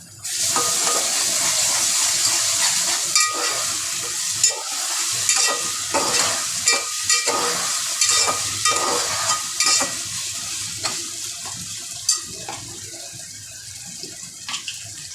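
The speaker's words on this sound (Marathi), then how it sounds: "आपण आता याच्यामध्ये अद्रक लसूणची पेस्ट टाकून घेऊया." Two spoonfuls of ginger-garlic paste hit hot oil in a pan, sizzling loudly at first, then settling into a steady crackle broken by repeated scrapes and clinks of stirring.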